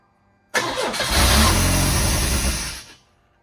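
A project car engine, with fuel poured in the top, cranks over and catches in a sudden loud, rough burst of engine noise. It holds for about two seconds, then dies away, close up and with no talking.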